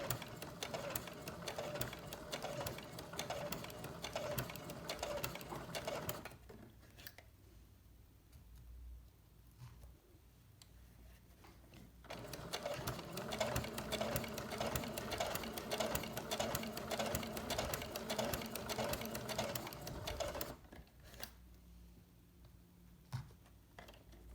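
A sewing machine slowly stitches bias tape along the edge of a quilted pot holder, running in two long steady bursts separated by quieter pauses, close and fairly soft.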